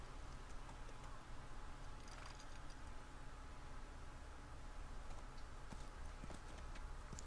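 Faint, quiet clip-clop of horse hooves walking at an even pace in The Last of Us, a soft rhythmic tapping under low ambient background with no talk.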